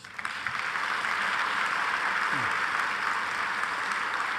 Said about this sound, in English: Now that deserves a round of applause.